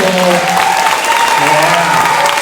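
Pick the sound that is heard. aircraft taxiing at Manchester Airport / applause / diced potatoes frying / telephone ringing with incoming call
applause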